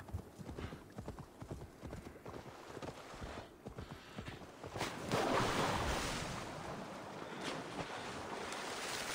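Horse hooves clip-clop in a rapid, rhythmic run in Assassin's Creed Valhalla, with wind and a surging water-like rush swelling in partway through.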